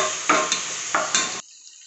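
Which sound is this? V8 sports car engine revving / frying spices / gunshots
frying spices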